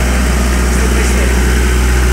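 A generator engine for an automatic transfer switch setup idles with a steady, continuous low drone and hum, close by and loud, holding constant with no talk over it.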